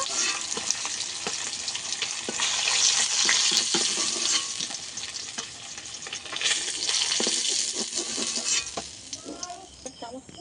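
Hilsa fish frying in oil in a home kitchen, a loud, steady sizzle with bursts of crackling and the clatter of a utensil stirring and lifting pieces near the pan.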